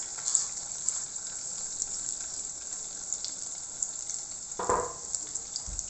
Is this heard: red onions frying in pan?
yes